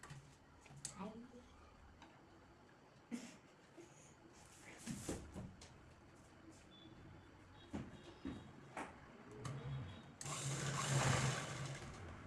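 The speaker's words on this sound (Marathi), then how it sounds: "आता हे भाग आता डबल स्टिच करून घ्यायचा आहे" A sewing machine runs in short bursts while double-stitching a seam on a one-piece dress being made from a saree, with a longer steady run near the end under occasional speech.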